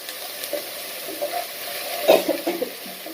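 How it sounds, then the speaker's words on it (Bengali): Onion paste fries in a pan for a hilsa fish curry with potato and pointed gourd: a soft sizzle with a few spoon scrapes and stirring clinks, close by and fairly quiet, with no voices. "দেখো পেঁয়াজটা ভাজি করছে"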